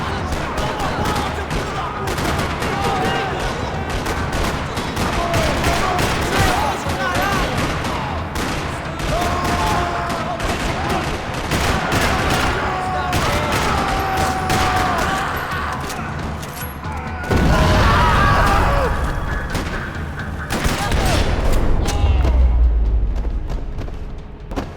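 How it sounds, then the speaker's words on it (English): Sustained gunfire rattles through a parking lot in the video game Max Payne 3, with dense bursts and crashes filling the whole stretch, a heavier booming section near the end, and faint voices now and then. "Another parking lot rattling with gunfire"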